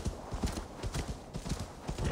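Horse hooves clip-clop in a steady galloping rhythm within the video game Assassin's Creed Valhalla, close and fairly loud, with a faint neigh mixed in and a voice heard briefly.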